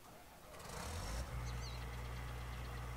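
In Farming Simulator 19, a John Deere S790 combine harvester's engine starts and settles into a low, steady idle as it warms up, a quiet rumble after a brief whirring start-up.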